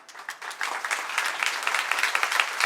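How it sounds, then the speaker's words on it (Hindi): An audience at a religious discourse claps, starting sparse and building into dense, vigorous applause that keeps going steadily to the end. "बजाओ ताली अपने पुण्य के लिए"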